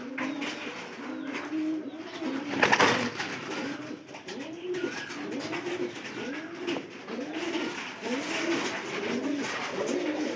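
White pigeons coo in a steady series of soft, rolling calls, several birds overlapping close by, with a brief louder flutter or rustle partway through and no talk.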